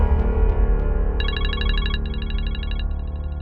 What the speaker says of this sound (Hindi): लो, तुम्हारे अब्बा के फोन पर कॉल आ गई।